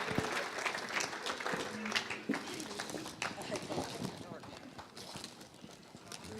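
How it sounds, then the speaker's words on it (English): Audience applause at a gala, a spread of scattered, crisp claps in a large room while people talk and call out over it, moderately faint overall. "Let's give her a round of applause."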